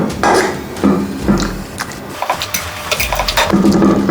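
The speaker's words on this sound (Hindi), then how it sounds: "इसे हल्का सा मैश करेंगे जिससे इनके प्याज और टमाटर हल्के दब जाएं" Chana dal with onion, tomato and garlic being lightly mashed in a pot for chana dal karahi, giving close, repeated soft scraping and clacking of a utensil against the pot in uneven strokes, with no talking.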